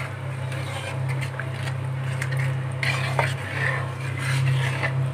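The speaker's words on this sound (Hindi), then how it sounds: "अब हम इसे अच्छे से मिक्स कर लेंगे।" A spoon scrapes and clinks around inside a pot of gravy for jackfruit kofta, stirring repeatedly over a steady low hum.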